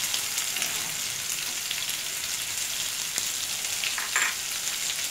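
Raw mango pieces frying in a pan, a steady moderate sizzle with occasional scrapes and clicks from stirring, heard alone without any speech.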